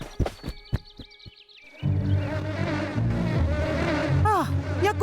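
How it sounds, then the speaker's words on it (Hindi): Cartoon bees buzz in a steady, droning swarm after a few sharp plucked and clicking sounds, the buzzing filling the background with whooshing swoops near the end. "वो मधुमक्खियां करमचंद की हैं।"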